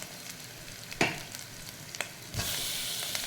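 Ginger garlic paste with green chili sautéing for veg pulao, a soft sizzle broken by a couple of utensil scrapes, then a louder, brighter frying hiss as something new goes into the pan.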